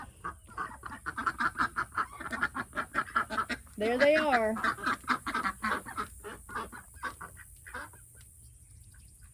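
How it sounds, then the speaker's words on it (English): Several ducks quack and honk in rapid, overlapping bursts nearby, building to a loud clustered chorus, with a voice speaking briefly among them. "4 ducks makes a big difference in the sound"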